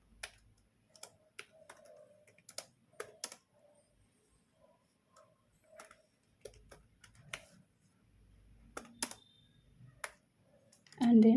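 Someone types ABAP code on a computer keyboard: sparse, quiet key taps arrive in small irregular clusters against near silence, closing with a louder thump at the end.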